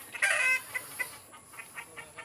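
Hobby chickens and roosters clucking at a backyard breeding pen, one loud burst of cackling up close followed by a string of shorter, fainter clucks spaced out across the moment.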